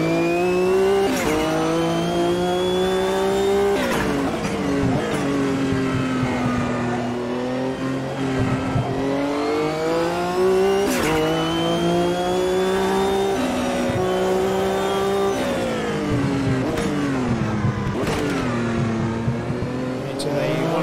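Sports cars from the World Sports Car Championship, including small BMWs, race around the Montreal circuit in Automobilista 2, with engines loudly revving up and down through gear changes and chicanes, continuous and close, while a commentator talks over them.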